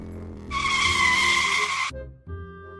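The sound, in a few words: car braking to a stop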